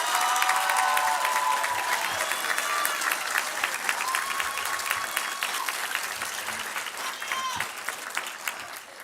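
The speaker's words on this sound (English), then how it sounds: "One more time, a round of applause for these people right here." Sustained applause from a commencement audience fills a large room, dense steady clapping with scattered voices and a few faint cheers mixed in throughout.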